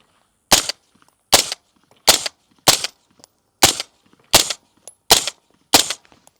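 Eight suppressed shots from a 10.5-inch ADM AR15 rifle crack out at a slow, even pace, each sharp and close with a quick decay and quiet gaps between.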